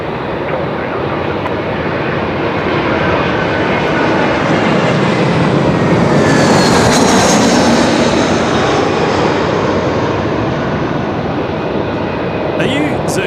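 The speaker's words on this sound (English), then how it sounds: "Jetstar 517 here, coming in from Sydney. Runway 16." A Jetstar airliner arriving from Sydney lands on runway 16 at Melbourne Airport, its jet engines a loud, sustained roar that swells as it passes close and then eases slightly, with no break in the noise.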